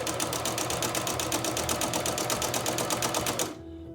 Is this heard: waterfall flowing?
no